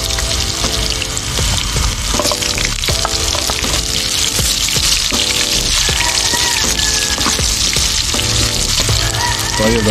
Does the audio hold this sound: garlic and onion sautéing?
yes